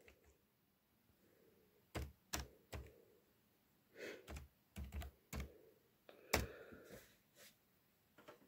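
Quiet clicks of a password being typed on a computer keyboard during router setup, a handful of separate close keystrokes in short bursts with pauses between them.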